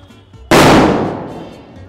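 A firecracker set on a helmet goes off in a single loud, close blast that strikes suddenly and then fades away over about a second, with only faint background noise before it.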